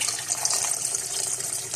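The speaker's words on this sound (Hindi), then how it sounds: "सॉस पैन के अंदर मैंने डाले हैं आलू बुखारे और इसके अंदर मैं डालूंगी 2 गिलास पानी" Water from a glass pours steadily into a saucepan holding fresh plums for homemade sherbet, a close, continuous splashing stream with no talk over it.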